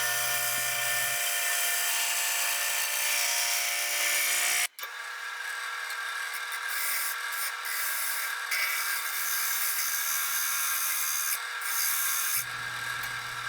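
A woodturning gouge shears slowly across a spinning walnut and tigerwood bowl on a lathe, giving a steady, close hiss and rasp, broken once by a sharp catch partway through.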